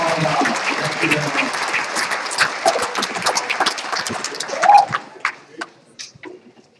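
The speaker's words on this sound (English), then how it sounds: "So I want to hear a big round of applause for John Harriman." Round of applause from a crowd at an awards banquet, dense clapping filling the room before thinning into scattered claps and a few voices near the end.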